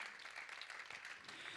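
Church congregation clapping together in a brief, steady burst of applause, soft and somewhat distant, with a faint voice under it.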